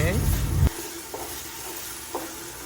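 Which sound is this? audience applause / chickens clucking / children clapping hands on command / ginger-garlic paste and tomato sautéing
ginger-garlic paste and tomato sautéing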